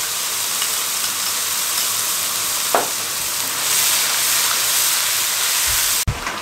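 Tomatoes and ginger-garlic paste fry in a pan for a chicken musallam, giving a steady, loud sizzle throughout with a brief clink near the middle and a sharp knock at the end.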